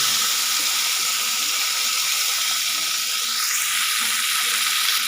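Chopped tomato, salt and coriander leaves fry in hot oil in a pan, giving a steady, close, even sizzling hiss with no pauses.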